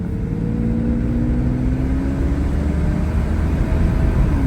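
A Mercedes CL600 W140 with a V12 and a freshly repaired transmission drives steadily, its engine note rising smoothly through a gear change, close and fairly loud with no talk.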